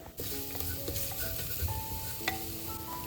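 Spices with paprika frying and being stirred in a pan: a constant loud sizzle with scraping stirs and clinks of the utensil against the pan, with no talk.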